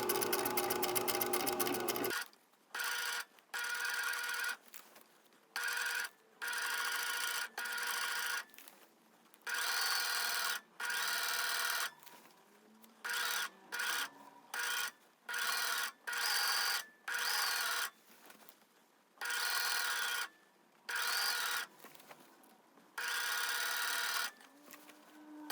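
A sewing machine understitches a facing on a box top in repeated short runs of rapid stitching, each stopping and starting again, close and clear with no voices.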